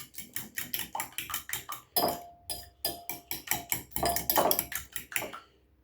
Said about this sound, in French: Vous mélangez le tout.